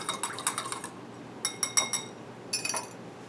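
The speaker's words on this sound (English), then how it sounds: "Now whisk that together and let it sit for 5 minutes to sour." Metal whisk beating Soylent and soured-milk pancake batter in a bowl, three bursts of quick, rhythmic clinking and tapping against the bowl, fairly close and soft, with brief pauses between them.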